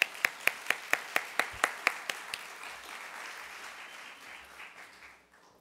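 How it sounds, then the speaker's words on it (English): Audience applause at a book awards finalist reading, starting with a string of distinct claps that blend into steady clapping from the crowd, then fading away toward the end. "Let's give a round of applause."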